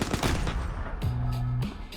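An M60 machine gun fires a few sharp, loud reports in quick succession. A brief mechanical whine follows partway through.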